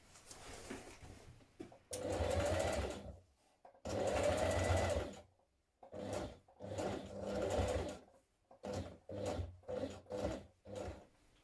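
A sewing machine top-stitches a curved mock fly seam on dungarees, running in several bursts of steady whirring separated by short pauses, close and clear.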